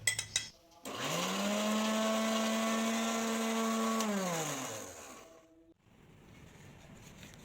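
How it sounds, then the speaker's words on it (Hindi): A mixer grinder whirs through green chillies and chopped green onion, starting with a few short clicks, holding a loud steady motor whine for about four seconds, then winding down and going quiet. "हम इसे अच्छे से ग्राइंड कर लेंगे।"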